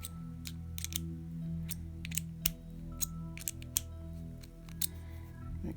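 A box wrench spins a ball connector into the front axle parts of a Tamiya Opel Calibra V6 TA02 model car. Light, close metallic clicks and ticks come in irregular bursts over a steady low hum.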